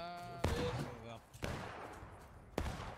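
Musket gunfire in the American Civil War game War of Rights, three sharp shots spread over a few seconds with a rolling crackle of volleys between them, and a faint voice under the noise.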